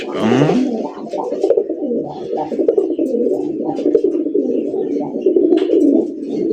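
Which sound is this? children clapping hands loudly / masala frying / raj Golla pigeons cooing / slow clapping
raj Golla pigeons cooing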